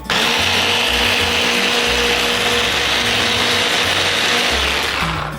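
Lemon garlic sauce for grilled catfish being beaten with an electric mixer: a loud, continuous motor whir with a grinding, rattling edge, steady from start to finish.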